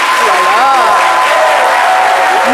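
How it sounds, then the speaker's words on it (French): Studio audience at a French-language midday TV show in Côte d'Ivoire applauding in a loud, steady wash of clapping, with a host's voice speaking over it. "une salve d'applaudissements"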